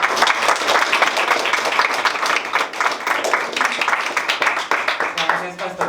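Loud, sustained audience applause at an event presenting Afrodita, a magazine on Afro-Colombian women leaders, with many hands clapping densely and close, tapering slightly near the end.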